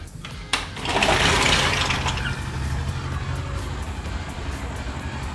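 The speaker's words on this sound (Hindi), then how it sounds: "बोरिंग हो रही है कंस्ट्रक्शन के लिए" A borewell being drilled outdoors for a construction site's water supply gives a steady, broad machine rumble and hiss, heard from indoors after a brief knock, with no talk.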